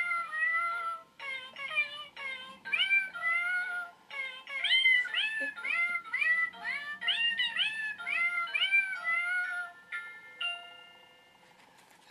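A birthday card's pull-tab sound chip plays a tinny electronic tune of repeated cat meows, a rapid melodic series of mews that ends in a faint sustained tone.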